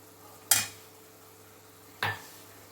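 Mixture in a pan being stirred after cardamom powder is added for patholi, two short scraping strokes about a second and a half apart over a faint quiet sizzle.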